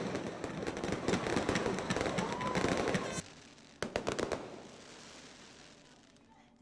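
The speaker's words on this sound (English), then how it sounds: "the fireworks" Fourth of July fireworks at Kenan Stadium: a dense, crackling barrage of bursts for about three seconds, then a short pause, a second cluster of sharp pops, and fading echoes, with distant crowd noise underneath.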